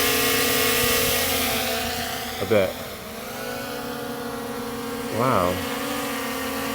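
A DJI Mini 3 Pro drone fitted with propeller guards hovers with a loud, continuous high-pitched whine and shifting tone, while a person speaks briefly twice over it.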